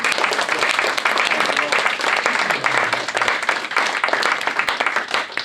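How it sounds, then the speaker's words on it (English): A crowd at a magic show gives a hearty round of applause, dense continuous clapping throughout with some voices and cheers mixed underneath. "let's give yourselves a big round of applause for joining in"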